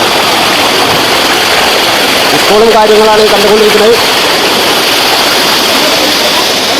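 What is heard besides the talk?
Kakkidikkal waterfall rushing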